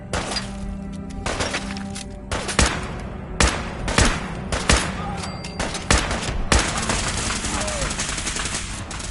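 Rapid bursts of automatic gunfire and single shots crackle through a Fallout 4 firefight, loud and repeated over a busy battle din with glassy shattering.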